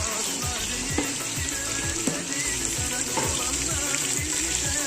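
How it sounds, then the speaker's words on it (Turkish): Carrots and onions sautéing in a pan for Ahıska pilaf, giving a continuous close sizzle broken by repeated stirring scrapes at an even rhythm. "Havuç da kavrulacak güzelce."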